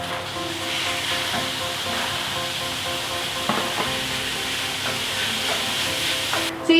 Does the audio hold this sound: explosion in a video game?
no